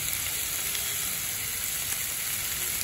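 Paneer frying with kadhai masala in a pan, giving a steady, even sizzle with a bright hiss that carries on without a break and without any voices.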